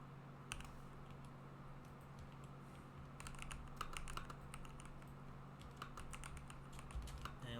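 Clicky computer keyboard typing while entering Python code, bursts of quick keystrokes separated by short pauses, close and moderately loud over a low steady hum, with no talking.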